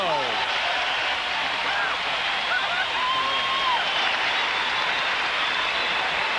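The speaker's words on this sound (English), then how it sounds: "listen to the crowd" A crowd cheering and roaring continuously inside the arena as the Portland Trail Blazers lead the Detroit Pistons by 12 heading to a break, in a 1990 NBA game, with a voice briefly heard over the noise.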